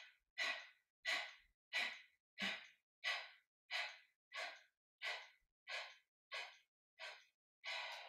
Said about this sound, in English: let's begin khapalabhati breath